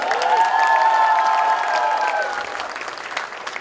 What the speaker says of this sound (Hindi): मुझे इस क्लिपिंग के बाद तालियां थोड़ी कम लग रही हैं